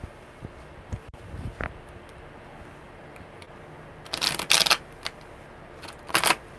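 Tarot cards are shuffled by hand in a quiet room: scattered soft taps and handling noises, then two brief crisp riffling bursts near the end.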